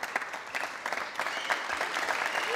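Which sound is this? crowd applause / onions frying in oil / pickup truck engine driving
crowd applause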